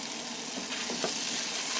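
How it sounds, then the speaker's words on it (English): Steady, bright sizzling of corn kernels frying in garlic butter in a hot pan, continuous and close, with faint stirring scrapes and no voices. "I'm gonna be quiet for a second so you can hear the sizzle."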